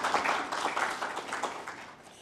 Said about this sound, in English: So another clap for the ministry itself.